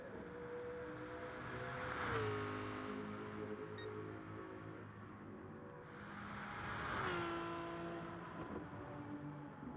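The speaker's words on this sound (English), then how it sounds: "That Nissan sounds mean." A Nissan race car engine drones and revs, swelling twice as it builds and passes, then fading back between the peaks, with no talk over it.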